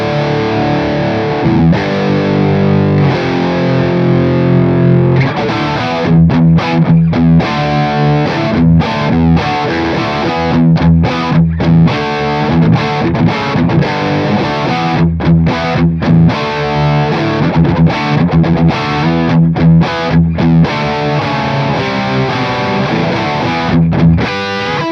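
Electric guitar played through a Victory MK overdrive on its high gain setting, loud and saturated with chugging palm-muted riffs, choppy rhythmic stops and sustained distorted chords, heard alone without talk.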